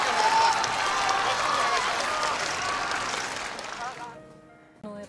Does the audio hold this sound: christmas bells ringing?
no